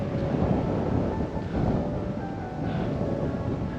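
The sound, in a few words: cool wind blowing near a mountain summit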